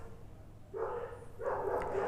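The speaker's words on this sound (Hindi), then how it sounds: "अब कई बार कुत्ते भौंक रहे होते हैं" Dogs bark in a residential colony, two bursts of barking from a little way off with a short pause between them and a low steady background hum, no speech.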